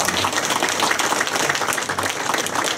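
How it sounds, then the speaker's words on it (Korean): Audience applause at a library opening ceremony in Daegu, a dense, steady burst of many hands clapping in an indoor hall, loud and sustained throughout. "여러분 한번 박수 한번 해주시기 바랍니다."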